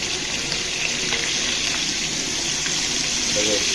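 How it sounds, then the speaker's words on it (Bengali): Tengra fish bubble and sizzle in hot oil, making a constant loud hiss that stays close and even throughout. "গরম তেলে টক বক করে ফুটছে"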